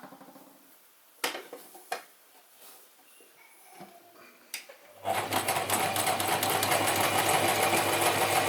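A Gritzner 1002 or Pfaff 307 sewing machine heard up close near the needle: a few light knocks and clicks, then from midway a loud, steady, fast mechanical stitching run that continues to the end.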